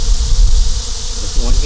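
Swarm of honey bees hums outside the hive on a hot day, a dense steady buzz that stays close and loud throughout the short stretch.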